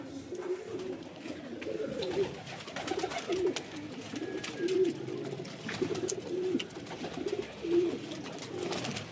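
A feral wild pigeon perched at a house, giving repeated rolling coos at a steady rhythm, about one phrase every second, moderately close and alone.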